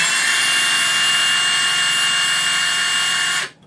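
A Milwaukee impact driver runs free at speed setting 1, a loud, steady high-pitched whirring that holds evenly for several seconds and then cuts off abruptly.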